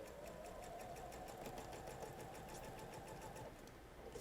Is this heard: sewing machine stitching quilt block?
yes